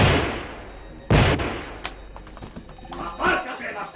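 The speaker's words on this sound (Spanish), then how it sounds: "surgieron detrás de la silla de Bressel 2 disparos." Two loud gunshots in a Spanish radio drama, sharp bursts a second apart, followed by fainter clatter with voices underneath.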